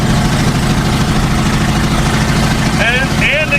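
Engine of an old Ford with a V8 swap, a steady low throbbing rumble under light throttle, heard from inside the car, with voices chiming in near the end.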